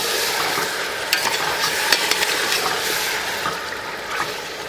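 Marinated chicken sizzles loudly in hot oil while being stirred, a dense steady frying hiss with occasional scraping knocks of a spoon against the pot, close and continuous, no voices.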